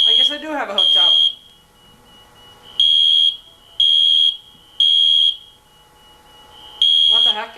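A fire alarm system sounding after a pull station is activated, with loud piercing electronic tones repeating in about one-second pulses with pauses between, and someone talking briefly at the start and end.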